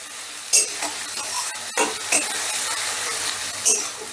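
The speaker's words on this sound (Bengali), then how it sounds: "ধরো মিনিট খানিকের মতন একটু নাড়াচাড়া করে নিচ্ছি।" Ground onion paste fries in a pan while being stirred, with a continuous sizzle and several sharp spatula scrapes and clicks close by.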